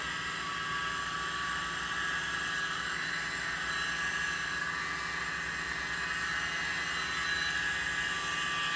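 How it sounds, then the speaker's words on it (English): A tiny handheld leaf blower runs nearby with a steady, loud, whooshing motor whine for the full stretch, with no breaks and no talking. "Here's my blower, just the tiny blower, I think it's called."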